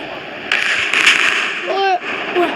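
Gunfire cracks in a shooting video game, with sharp bursts and pops around a short rapid volley, followed by chirpy game sound effects.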